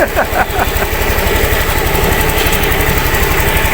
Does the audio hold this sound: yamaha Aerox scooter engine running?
yes